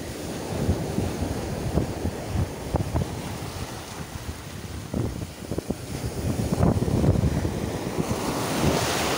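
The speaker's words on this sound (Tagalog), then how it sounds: "Sa malakas ang alon." Strong ocean waves surge and crash steadily in rough open water from a boat, with gusty wind buffeting the microphone throughout and no talking.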